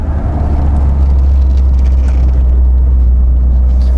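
A Volvo 480 heard from inside while driving onto a roundabout: a loud, steady low engine and road rumble that holds even throughout, with no talk.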